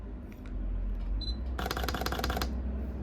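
A camera shutter fires in a rapid burst of clicks lasting under a second, preceded by a faint beep and a couple of softer button sounds.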